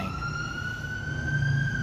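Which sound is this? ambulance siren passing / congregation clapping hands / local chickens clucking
ambulance siren passing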